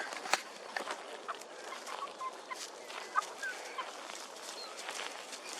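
Several farm fowl, apparently turkeys, call with scattered gobbles and clucks around a 5-gallon water bucket, the sounds moderately near and intermittent over a steady outdoor background.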